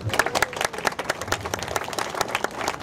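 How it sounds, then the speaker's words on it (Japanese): An audience at a samurai show breaks into lively applause, a dense patter of many hands clapping close by for a few seconds. "大拍手どうぞ。"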